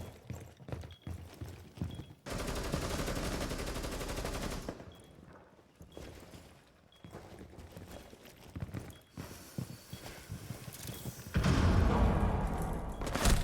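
Bursts of rapid gunfire from the video game Rainbow Six alternate with dense noisy stretches, loud sustained volleys near the start and end with quieter gaps between.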